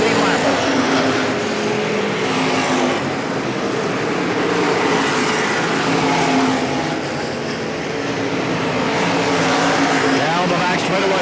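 Race cars lap Hagerstown Speedway in a 15-lap feature, a loud continuous engine roar with swelling and fading passes, heavily mixed with an announcer talking throughout.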